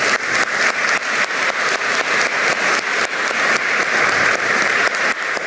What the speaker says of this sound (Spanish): Fuertes los aplausos para el señor